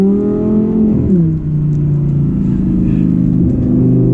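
A modern Audi R8 with a dual-clutch gearbox, loud and close, its engine note climbing steadily, briefly dropping at a gear change, then rising again.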